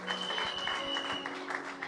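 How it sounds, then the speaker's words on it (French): A congregation at a church service claps in brief, moderately loud applause, with a sustained musical tone running underneath. "Est-ce que tu peux applaudir pour la parole de Dieu?"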